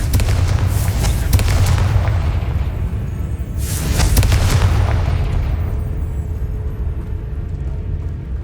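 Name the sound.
spell explosions in the video game Hogwarts Legacy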